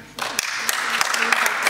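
A conference audience claps together, a loud burst of mixed hand claps that starts after a short quiet moment and keeps going to the end.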